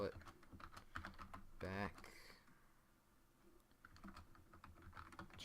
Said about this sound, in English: I'm sorry if my keyboard's kind of loud. It's not the best keyboard.